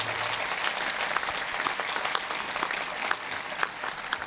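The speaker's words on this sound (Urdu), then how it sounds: "فادر جی کے بھرپور تالیاں اور ان کا ہم استقبال" Church congregation gives a sustained round of applause welcoming a priest at a Christ the King solemnity service, a dense, even wash of clapping from a large crowd.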